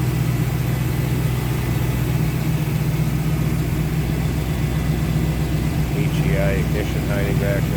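Close by, a 1954 Ford Ranch Wagon V8 with an Edelbrock carburetor and HEI ignition idles smoothly in a steady low drone, and someone talks over it near the end.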